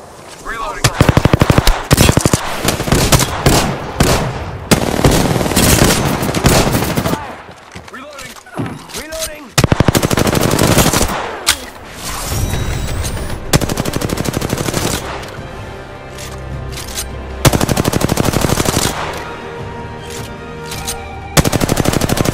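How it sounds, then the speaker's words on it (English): Automatic and rapid gunfire in the Apex Legends battle royale game, loud sustained bursts and single shots in dense clusters with short pauses, with faint voice chatter underneath. "Shots fired."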